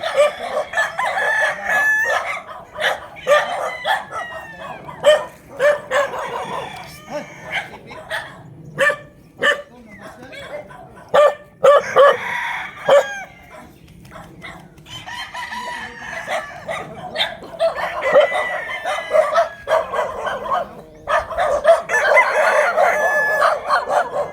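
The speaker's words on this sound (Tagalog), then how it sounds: "Ang dami magagandang manok." Several gamefowl roosters crow repeatedly on a farm, near and far, their calls overlapping, while dogs bark in short bursts among them.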